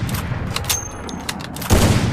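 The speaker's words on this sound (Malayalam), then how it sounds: "പിന്നെ 2-3 വെടി വെച്ച് അതൊക്കെ ടയറൊക്കെ തന്നെയാണ് കൊള്ളുന്നത്" Gunfire rings out in a battle royale video game, a quick cluster of sharp cracks followed by a louder, heavier burst near the end.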